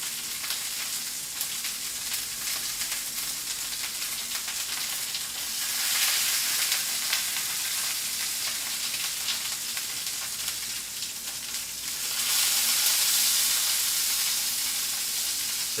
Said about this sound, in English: the sear is going to happen a lot more rapidly on this piece of meat